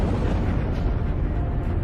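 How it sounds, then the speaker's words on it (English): Detonation of the Soviet Tsar Bomba, a 50-megaton nuclear bomb tested in October 1961, heard as a continuous deep, loud roaring rumble with no distinct onset, filling the whole stretch. "the Soviets detonate the largest bomb in human history."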